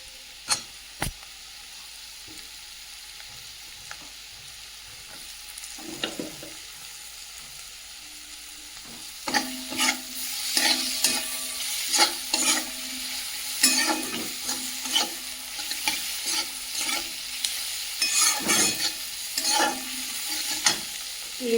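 Tomatoes and turmeric frying with onions in a pan. A quiet start gives way to a loud, steady sizzle, with frequent close scraping stirs of a spoon throughout the second half.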